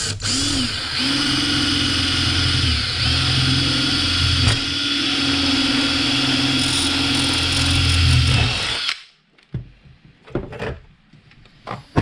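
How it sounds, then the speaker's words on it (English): A power drill bores a hole through the middle of an L bracket for a BMW E46 splitter, running steadily for about nine seconds with a loud, even motor whine, then cuts off, leaving faint scattered clicks and handling noises. "I'm just going to drill a hole about middle of the L bracket."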